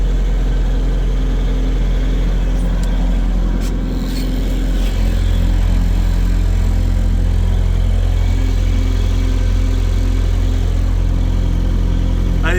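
A Bobcat T-590 skid steer's diesel engine running steadily just after a cold start, a loud, close, low rumbling idle that deepens and thickens partway through, with a few faint clanks over the drone.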